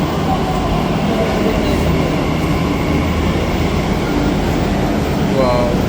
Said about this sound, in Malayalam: അങ്ങനെ അടുത്ത രണ്ടാമത് പോലുള്ള മെട്രോയും വന്നു.